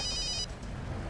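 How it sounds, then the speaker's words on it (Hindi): A telephone rings in a police drama, a brief electronic trill that cuts off after a moment over a low, steady background hum. "दया सर का फोन।"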